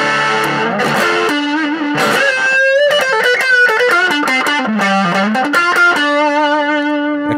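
Electric guitar played through an Orange mini amp with a distorted tone and no reverb or delay, picked up by a 57 microphone: a steady run of sustained chords and single notes that bend and shift, loud and close, with no talking.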